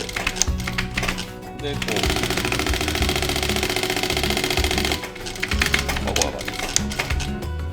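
A sewing machine stitches leather wallet parts, backstitching at the start, with a fast, steady mechanical chatter running close and loud through most of the clip while a person talks over it.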